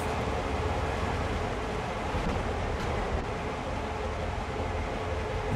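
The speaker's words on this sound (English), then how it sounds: "Oh, there goes another train. Another Amtrak." An Amtrak passenger train rushes past in the Train Sim World video game, a steady, loud rumbling roar of wheels and wind that holds level throughout with no talking.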